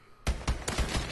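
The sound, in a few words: gunfire in video game Call of Duty Advanced Warfare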